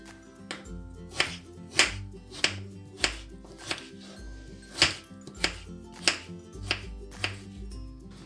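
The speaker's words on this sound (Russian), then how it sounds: "Нарезаем мелким кубиком." Knife chopping potato into small cubes on a cutting board, a steady series of about a dozen crisp, close taps at an even rhythm, with no talking.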